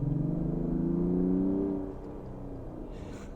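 Mazda CX-60 Takumi 3.3L diesel pulling hard uphill, a steady low engine drone with rising harmonics for almost two seconds before settling into a quieter cabin rumble.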